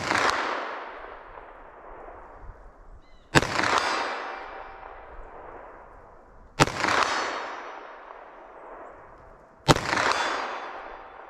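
.38 Special handgun fired at targets outdoors, four sharp loud cracks spaced about three seconds apart, each trailing off in a long echoing decay.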